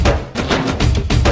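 A programmed dholak rhythm with repeating deep thuds and sharp slaps in a steady, looping pattern, loud and close with no voices.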